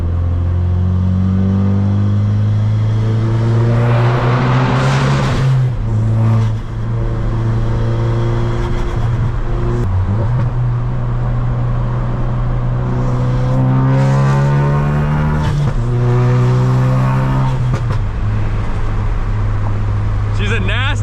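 A 450 hp Ford Focus RS accelerates hard in a full pull, its loud engine climbing in pitch and dropping back at each gear shift several times, with people talking and whooping over the roar.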